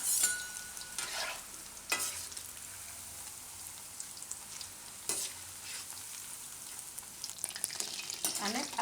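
Patra bhajiya, a Gujarati fried snack, frying in hot oil in a home kitchen, a continuous soft sizzle with occasional sharper crackles and bursts of bubbling, close and alone without voices.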